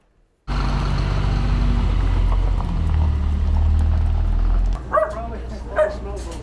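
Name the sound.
dogs barking and whimpering at SPCA animal rescue center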